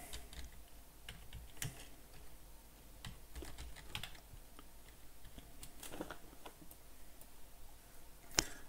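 Steady typing on a computer keyboard as a title is entered into a timeline-building program on an assistive computer, with quick clustered keystrokes throughout and one sharper click near the end, close and fairly quiet.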